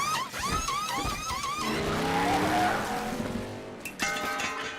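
An RC four-wheel-drive car on Camp Bully tires drives around, its small electric motor whining up and down in pitch through several quick revving passes, then a tire scrub and a brief pause.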